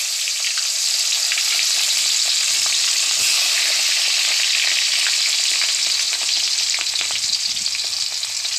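Onions hit hot oil left over from frying meat and potatoes, cooking for biryani on a clay stove. The sizzle is loud and close and holds steady throughout, with the clatter of stirring mixed in.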